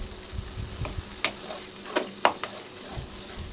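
Mashed boiled potato being stir-fried with spices in a pan, a low sizzle under a few distinct spatula scrapes and clacks, nearby and moderate in level.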